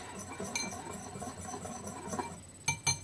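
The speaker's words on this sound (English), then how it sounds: "I'm using a whisk, but you can use a fork if you like. And I'm just mixing those dry ingredients together" A wire whisk stirs dry ingredients in a bowl with a faint, steady scratchy rustle, ending with two sharper metallic clinks against the bowl.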